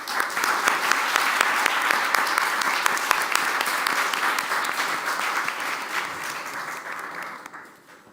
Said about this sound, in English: a big round of applause to all our panelists and participants here